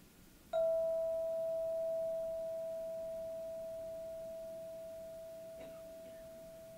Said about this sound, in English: to focus entirely on the sound of the bell